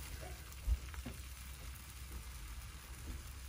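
Egg mixture for Japanese tamagoyaki sizzles in oil in a pan, a soft, steady frying crackle with a faint thump near the start, fairly quiet and close.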